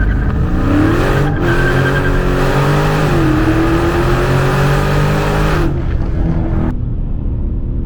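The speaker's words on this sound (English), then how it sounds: "Let's do a launch and see what this thing can do." A Dodge Scat Pack, a 4,300-pound car, launches hard from a stop, its V8 roaring loud and close with rising pitch through the gears before the throttle lifts and the engine note falls away.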